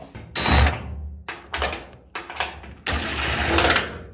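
A power driver backs screws out of a Whirlpool/Maytag electric dryer (MEDB835DW3) with a no-heat fault, in several close, loud whirring bursts of uneven length separated by short pauses.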